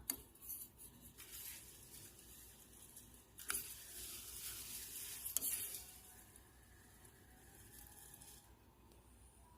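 Plantain herb simmering in oil over low heat, a soft, continuous sizzle and gentle bubbling, quiet and close, with occasional scraping stirs against the pan.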